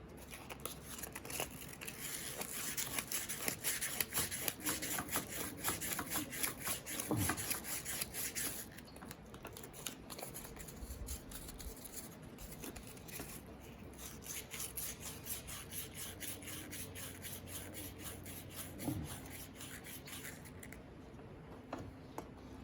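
Hand sanding with 400 grit paper scrubs heavy rust off door components from a 1967 Mustang, a steady close rubbing and scratching with uneven strokes throughout.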